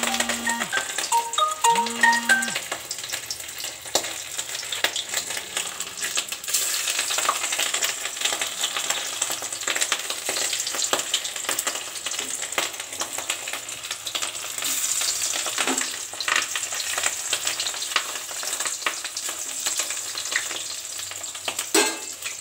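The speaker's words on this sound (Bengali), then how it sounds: "এইবার আমি মাছটা একটা একটা করে ছেড়ে দেবো।" Katla fish pieces frying in hot oil, a steady broadband sizzle that runs continuously for over twenty seconds, with a few brief tonal blips at the start and occasional spatter crackles.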